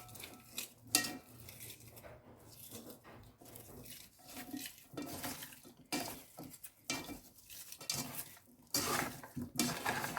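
Onion and meat drumsticks are mixed and squeezed together by hand in a bowl, giving soft, irregular squelching and rustling bursts that stay quiet and close with short gaps.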